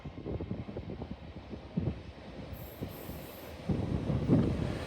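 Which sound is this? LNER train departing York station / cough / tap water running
LNER train departing York station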